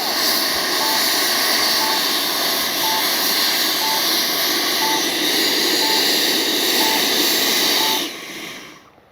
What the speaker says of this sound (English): reverse thrust works really well.